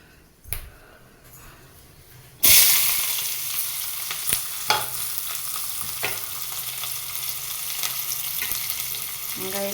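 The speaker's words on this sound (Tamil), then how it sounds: "சேர்த்ததுக்கப்புறம் நம்ம தேவையான வெங்காயம், பெரிய வெங்காயம் பொடி பொடியாக நறுக்குனது சேர்த்துக்க போகிறோம்." Finely chopped large onions hit hot oil in a pan with a sudden loud sizzle that settles into steady frying, broken by a few sharp pops and stirring clinks.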